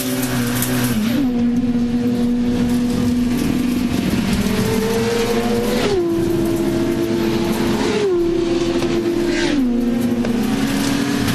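Touring cars race at the WTCC round in Puebla, Mexico, engines screaming loud and close as pitch climbs and drops with each gear change over a constant roar, no talk.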